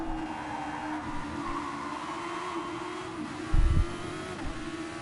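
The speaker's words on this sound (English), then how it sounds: "As this pack of cars goes on to lap number 5, Damon is right behind Ace Boy." A pack of race cars lapping in Gran Turismo Sport, a steady droning engine roar with a brief louder burst near the end, no voices.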